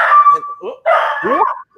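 A dog barks and yips close to the microphone during a live watch-along broadcast of a UFC fight, a couple of short loud vocal bursts.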